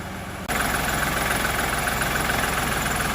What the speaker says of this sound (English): nice Tier 4 engine. I'm standing right by the exhaust here